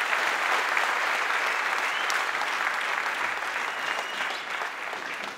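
Sustained applause from a large audience at a political opposition convention, dense and steady for several seconds, tapering slightly near the end.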